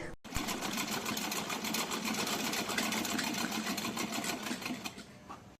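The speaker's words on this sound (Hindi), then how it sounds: "इस तरह से पूरे पे हम सिलाई करके लेस लगा लेते हैं पूरे पे।" A sewing machine stitches white lace onto a cotton dress, running steadily and close for several seconds with a fast, even mechanical whir.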